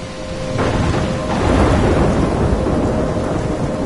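Thunderstorm in the video game Life is Strange: steady heavy rain with a deep rolling thunder rumble swelling midway, loud and continuous with no voices.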